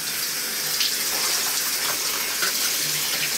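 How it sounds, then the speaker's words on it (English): Water pours and gushes steadily as it flushes brass cases and steel pins out of a rotary tumbler, a continuous splashing rush with a few faint metallic clinks and no voices. "So I'm just flushing it with some water, pouring the rest of the pins in, making sure I get all the brass out of it."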